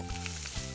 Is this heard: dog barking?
no